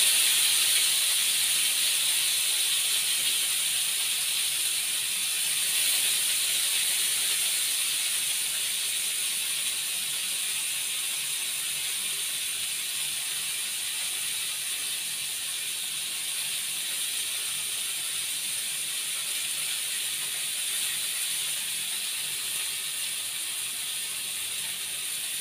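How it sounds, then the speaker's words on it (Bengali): Onion and green chilli stir-frying in a pan: a steady bright sizzle and hiss that stays even and continuous throughout, with no voices. "এই যে পেঁয়াজ আর কাঁচা লঙ্কা আছে, আমি এটা একটুখানি নেড়ে নেব।"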